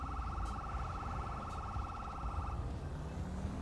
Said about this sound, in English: Who still has their siren on?